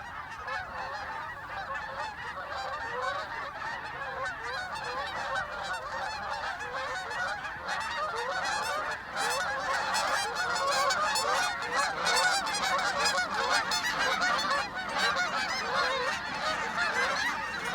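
Many geese call at once in a thick, unbroken clamor of honks, growing slightly louder and closer toward the end.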